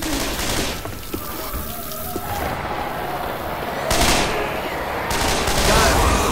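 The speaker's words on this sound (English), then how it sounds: "Good shooting, Ted." Left 4 Dead 2 gunfire in a rain-soaked level, rapid bursts and shots that rise and swell over a steady wash of rain, with brief game voices over the shooting.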